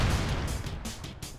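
A C4 charge detonates in the game Mercenary Kings, a loud booming burst at the start that rumbles and decays over about a second with a few crackling pops.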